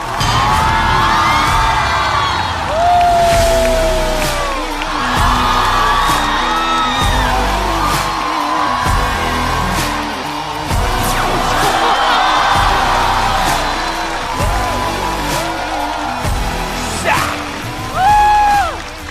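Loud crowd cheering, whooping and applause at a Chinese stand-up comedy club show welcome three comedians onto the stage, a dense sustained roar with yells and whistles rising and falling throughout.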